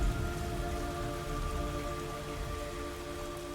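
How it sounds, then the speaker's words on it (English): Steady rain in the video game Metal Gear Solid Delta patters continuously on a surface, even and unbroken, with a faint tonal hum underneath and no voices. "It's raining blood."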